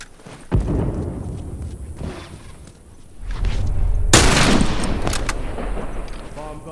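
A grenade blast and rapid gunfire in The Last of Us Factions multiplayer: a sharp early bang, a stretch of scattered shots, then a loud sustained burst of heavy fire with rumbling booms to the end.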